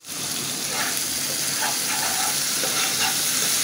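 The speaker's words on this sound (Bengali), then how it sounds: "মশলাটা কিন্তু আমি সুন্দর করে কষিয়ে দিচ্ছি।" A spice paste seasoned with chili powder and salt sautés in a pan with a steady close sizzle that starts abruptly and holds even, with light crackling bubbles throughout and no talking.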